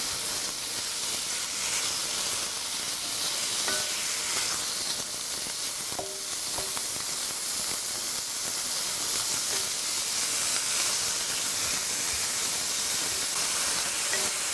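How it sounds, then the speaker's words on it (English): Minced beef browns in oil in a pan, sizzling and hissing steadily up close, with occasional faint clinks of stirring and no speech. "the beef is starting to brown now"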